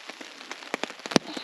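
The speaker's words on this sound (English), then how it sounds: "Oh, the rain's just started now." Rain beginning to patter on a tent fly at a backcountry hunting camp, scattered irregular drops tapping close by, a few sharper louder hits standing out against a soft steady hiss.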